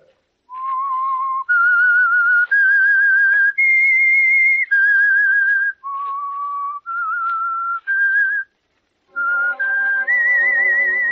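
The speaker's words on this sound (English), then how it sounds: "That whistle is your signal for the Signal Oil Program" A lone human whistler carries the signal theme of an old-time radio drama, a clear tonal melody of sustained notes that step up and down in pitch, with a short pause before the last phrase. Close and loud, with no talk.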